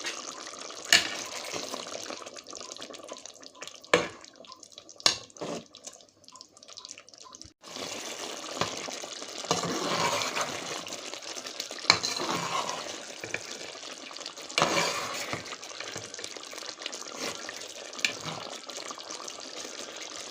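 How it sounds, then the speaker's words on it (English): Ingredients poured into a pot of cooking pork belly slices and beans, with liquid splashing and trickling, drips and sloshing, then a fuller, steady stream of pouring with occasional clinks. "I'm gonna go ahead and add this to the pot now, and let that cook together with the pork belly slices"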